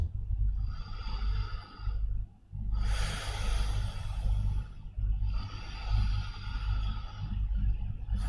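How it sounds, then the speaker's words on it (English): Slow, deep breaths drawn in and let out during a yoga child's pose, three long airy exhalations close to the microphone separated by brief quiet gaps, with no talking. "Child's pose, 3 full breaths."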